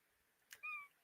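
One short, quiet cat meow rises briefly after a soft click, alone against near silence.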